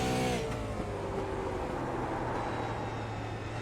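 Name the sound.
super late model race cars at full throttle on track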